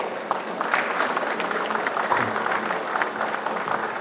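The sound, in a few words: applause for the speaker at a tunnel symposium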